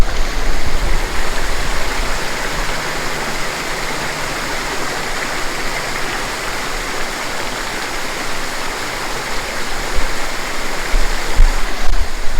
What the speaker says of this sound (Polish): Jest w nim taki fikuśny, fajny wodospadzik.